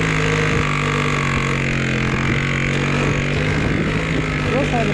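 A two-stroke diesel moped engine runs steadily and loud throughout, a rough, buzzing drone with wind noise over the microphone.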